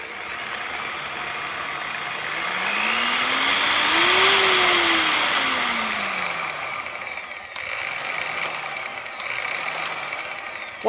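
A Drill Master 7-inch 10 amp variable speed rotary polisher spins a 3-inch backing plate with a hybrid Lake Country synthetic wool pad, its motor whine rising and falling in pitch as speed changes, steady and close with no talking.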